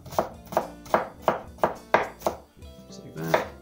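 A kitchen knife chops vegetables for a pasta sauce on a cutting board, with eight crisp, evenly spaced knocks close by, a short pause, then a final chop.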